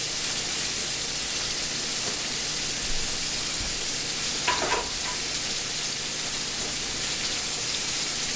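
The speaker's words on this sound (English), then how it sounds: "We want those to sear up really, really good." Meat searing in a hot pan gives a steady, close, continuous sizzle with a faint thump partway through. No one speaks.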